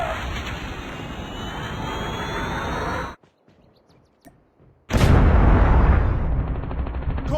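A Predator missile strike in a Call of Duty game lands as loud, sustained roaring blasts and rumble, cut by a sudden drop to near silence before a second heavy explosive surge returns at full strength.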